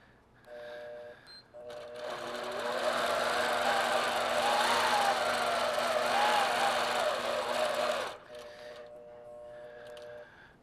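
A longarm quilting machine stitches steadily for about six seconds, a loud continuous motorized whir with a humming tone, starting and stopping cleanly with quiet room tone before and after.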